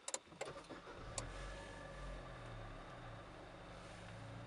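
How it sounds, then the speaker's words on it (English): A Nissan Juke Nismo with a manual gearbox starts by push button: a few sharp clicks, then the engine catches into a low, steady idle rumble, heard up close and fairly quiet. "put our foot on the clutch and click the start stop button."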